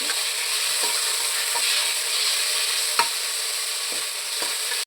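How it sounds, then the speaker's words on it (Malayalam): Tomato and paste frying in a pan for a hotel-style salna, a constant bright sizzle with regular scraping stir strokes about every second, close and fairly loud, no talking. "പേസ്റ്റ് ചേർത്ത് കൊടുക്കാം തക്കാളി ചേർത്ത് കൊടുക്കാം"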